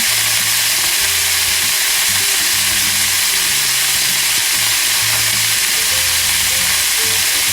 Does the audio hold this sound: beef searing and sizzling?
yes